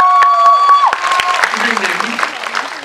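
Audience applause at a live film talk event for a director's debut feature; a steady wash of clapping builds just after a brief electronic tone and continues for a couple of seconds, with a faint voice underneath.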